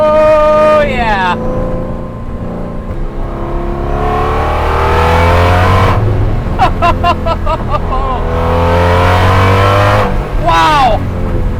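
A Ford GT40 race car engine revs hard while driving, rising and falling through gears with sharp exhaust pops and crackles; someone talks excitedly over the loud engine.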